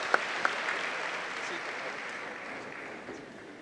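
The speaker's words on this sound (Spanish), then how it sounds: "El aplauso para ellos." Audience at an anniversary event applauding presenters, a sustained round of clapping from a crowd that fades gradually, with a couple of sharp claps at the start and voices mixed in.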